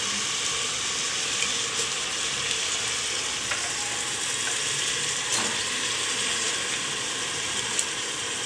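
Mushrooms sautéing in a pan for mushroom biryani give a steady sizzle and frying hiss, with a few faint scrapes and clicks of stirring and no one speaking.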